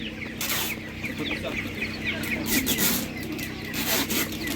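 Czech Dominant laying hens cluck and squawk in repeated bursts at a livestock market, close by, with faint rustling and background noise.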